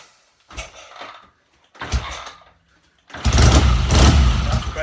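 BSA A70L Lightning motorcycle being started: two short cranking bursts with gaps between, then the engine catches and runs loudly and roughly up close.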